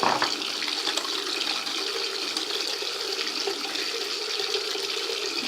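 Cold tap water runs continuously into a sink while a bloodstained cloth is washed by hand, a steady close splashing rush with no talk.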